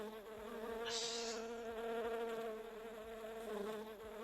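Buzzing bees triggered as a stream interaction effect, a steady droning hum with a brief higher buzz early on, heard alone without talk.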